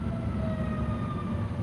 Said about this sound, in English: Uh-oh, I hear a siren.